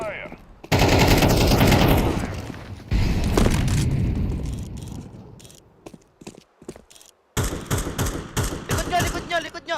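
Video game gunfire: loud, dense bursts of automatic fire and booms in several long stretches broken by short pauses, with mechanical clicks in between, close and dominant.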